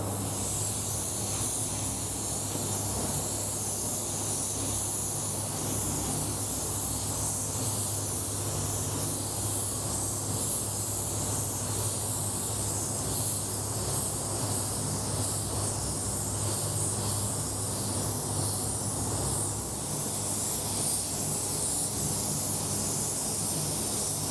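Steady continuous hiss of a spray gun laying a wet base coat of Peelclear spray wrap, constant and fairly loud throughout with a low hum underneath and no talking.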